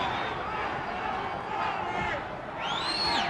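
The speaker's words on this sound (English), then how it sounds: "The crowd is shouting Banke, Banke." A boxing arena crowd at a WBC super bantamweight title bout chants a fighter's name, a loud, continuous roar of many voices filling the space, with a commentator speaking over it.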